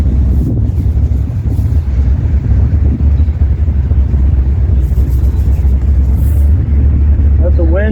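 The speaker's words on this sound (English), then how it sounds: "It's nice and windy today." Strong wind blows across an outdoor garden plot, buffeting the microphone with a heavy, constant low rumble, while a person talks over it.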